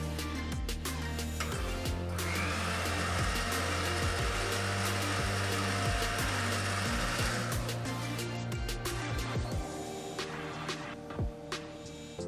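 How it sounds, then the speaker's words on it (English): A food processor whirs steadily for several seconds while blending cooked cream of mushroom soup into a thick, creamy purée. The motor drone runs close and loud, then cuts out, and a few clinks and knocks follow. "ready to be transferred to the food processor to be blended into a thick"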